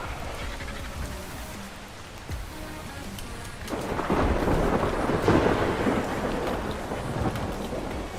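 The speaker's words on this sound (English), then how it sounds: "Storms in this game have actually turned out to be quite nice. They can tend to be quite loud" A thunderstorm in the video game Ark Survival Ascended brings steady heavy rain and rolling thunder that swells louder midway, a dense and close roar with no voices.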